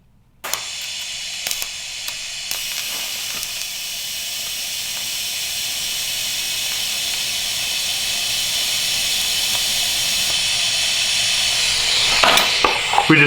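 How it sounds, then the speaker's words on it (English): A TIG welder lays a tack weld, making a steady, close hiss that runs unbroken for about twelve seconds and swells slightly before a few sharp clicks at the end. "We just got our first tack weld."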